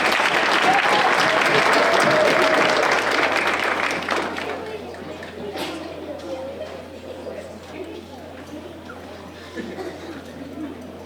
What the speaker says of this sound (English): Another round of applause for all our awards.